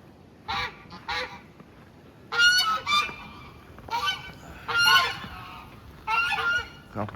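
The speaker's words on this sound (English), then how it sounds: "Couple geese." Several geese honking on a farm the morning after an ice storm, in repeated loud bursts of overlapping calls with short quiet gaps between them, fairly close.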